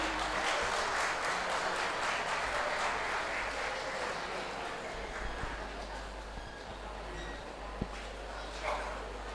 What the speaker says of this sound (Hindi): जोरदार तालियों से स्वागत कीजिए हमारे चीफ गेस्ट, स्पेशल गेस्ट और गेस्ट ऑफ ऑनर का प्लीज